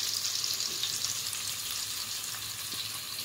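Paneer cubes sizzle steadily as they fry and are gently stirred in a pan, a continuous soft crackle with faint scraping, no voices.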